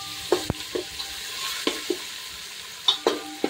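A spoon knocks and scrapes through dabeli filling frying in a pan as turmeric is mixed in, a soft sizzle under sharp sporadic clacks, near and clear with no voices.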